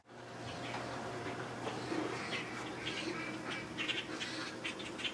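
Ducks quack and squawk in a loose, scattered chorus that is fairly near but soft, over a steady low hum in the background.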